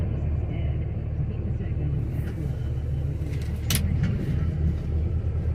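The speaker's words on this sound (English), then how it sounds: "Can't practice my drifting with the snow plow on it." Pickup truck with a snow plow mounted and a 48RE transmission with a reverse manual valve body, driving on light snow: a steady low engine rumble close by, with a brief rattle partway through.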